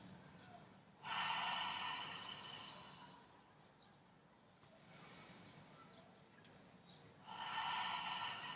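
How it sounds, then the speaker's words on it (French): Deep breathing in and out during an at-home Pilates back stretch, two loud airy breaths near the start and end with a softer one between, heard close and alone. "Et j'inspire, je relâche."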